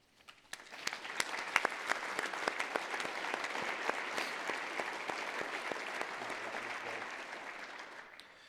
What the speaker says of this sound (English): we should all give them a round of applause for all the great work they do